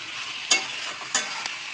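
Young jackfruit pieces stirred in a frying pan with a soft sizzle underneath and two or three brief scraping strokes of the spoon, fairly quiet and close.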